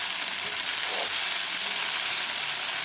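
Sardines and okra sizzle in a hot pan as they are stirred, a continuous loud crackling hiss with faint scraping underneath, close and steady with no voices.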